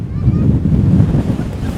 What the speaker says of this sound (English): Whoa, it's so windy here.